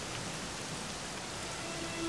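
Steady dense rain hisses throughout in the fantasy role-playing game Dragon Quest XI S, broadband and unbroken like a downpour on surfaces, with no speech over it.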